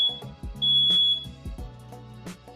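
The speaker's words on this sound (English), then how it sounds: "Every single time I make bacon in this house, my smoke alarm goes off." A home smoke alarm set off by bacon cooking chirps a thin high tone steadily over close kitchen clatter, with muffled thumps and knocks and no talking.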